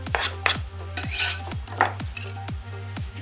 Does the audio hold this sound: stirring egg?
yes